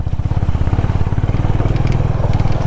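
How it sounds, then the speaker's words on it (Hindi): A Honda H'ness motorcycle labours up a steep slope in first gear, its single-cylinder engine thumping in a loud, close, steady low pulse with rattling and crunching over rough ground throughout. "पहले सेकंड गियर तो लगा भी नहीं पा रहा, फर्स्ट गियर में चढ़ पा रही है"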